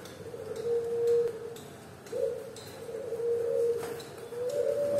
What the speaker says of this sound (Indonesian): Ini adalah jenis perkutut Majapahit.